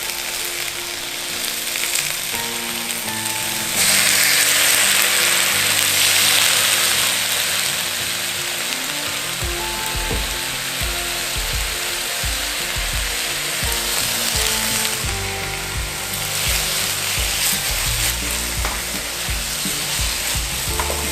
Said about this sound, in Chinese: 然后现在煎到有一点出水